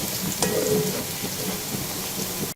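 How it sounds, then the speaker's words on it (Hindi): Sliced onions fry in hot oil toward a light golden colour for dhaba-style bhindi, giving a close, continuous crackling sizzle with scattered pops, and no talk. "अभी हमें इसे थोड़ा सा और फ्राई करना है कि इसका कलर बिल्कुल सुनहरा सा हो जाए"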